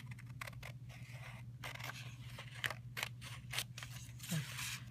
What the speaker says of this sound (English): I'm going to cut across.